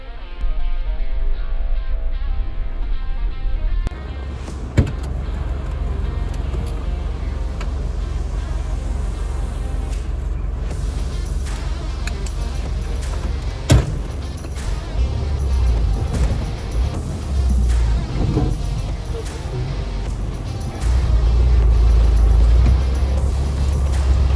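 Off-road vehicle crawling along the rugged Stampede Trail in Alaska in four-wheel drive low range, a loud, steady engine drone with occasional knocks and jolts over rough ground, swelling louder toward the end.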